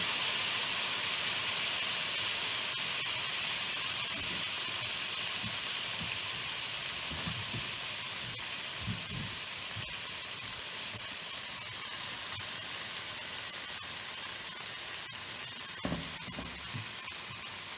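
Pork tenderloin browning in a pan with its marinade, a loud, steady sizzling hiss throughout with a few soft clinks and movement sounds.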